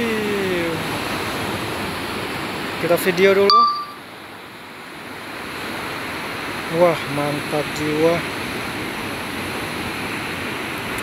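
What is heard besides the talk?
ocean waves crashing on beach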